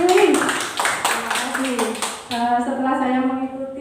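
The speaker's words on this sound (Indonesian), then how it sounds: "tepuk tangan untuk Bu Lili" Audience clapping for Bu Lili, a school principal, at a school event; a burst of applause at close range runs under talk for about two seconds, then voices carry on over fading claps.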